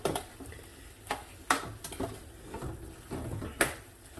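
Chunky onions and peppers tipped back into a frying pan for a chicken jalfrezi, heard as soft scrapes, light knocks and a steady low sizzle, with a few sharper clacks of a utensil against the pan.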